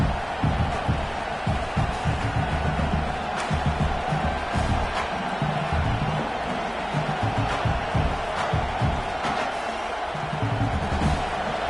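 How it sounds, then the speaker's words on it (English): A large crowd roars continuously with dense, sustained cheering and noise filling the space, no single voices standing out. "this crowd is fired up. Listen to this noise here."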